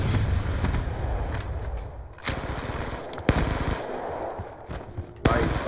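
Close gunfire rings out in Black Ops II on the Nuketown map, with loud, sharp shotgun blasts and bursts of rapid fire spread across the clip, including sudden heavy reports near the end.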